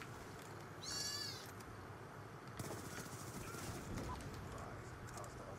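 A cat gives one clear, fairly loud meow early on, set against quiet background noise and faint game sounds.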